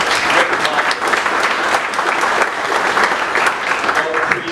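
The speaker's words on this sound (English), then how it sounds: "Brian Schreiber, how about another round of applause?" Audience applause for a panel at a conference, dense steady clapping at close range that holds evenly for a few seconds without voices over it.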